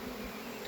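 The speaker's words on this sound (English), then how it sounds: "Man, there's bees everywhere." Swarm of honeybees buzzing in the open air after leaving the hive, a steady dense drone with many overlapping wingbeats, close and continuous.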